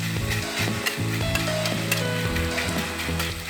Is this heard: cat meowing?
no